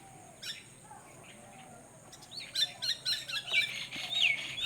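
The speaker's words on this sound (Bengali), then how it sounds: "পাখিগুলো কি সুন্দর ডাকছে" Birds chirp and tweet outdoors, faint at first and then a lively run of high, repeated calls in the last couple of seconds.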